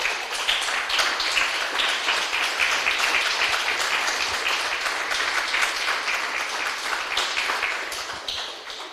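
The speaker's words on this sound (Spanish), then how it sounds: "Denle un fuerte aplauso al Señor" Congregation applauding during a church service, a full, continuous roar of many hands clapping that holds steady for several seconds and then begins to ease off toward the end.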